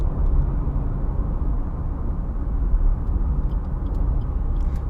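2021 Maruti Suzuki Baleno Zeta driving on a flat road, a steady low road and engine hum with tire noise, continuous and even throughout.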